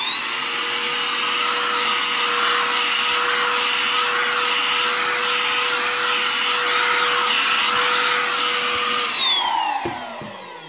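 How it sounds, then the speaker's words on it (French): A Digoo DG-H1 Pro handheld car vacuum cleaner runs loud and close with a steady high-pitched motor whine and airy rush, sucking up crumbs from a table, then winds down and stops near the end. "petit aspirateur qui va nous servir donc plus dans la voiture"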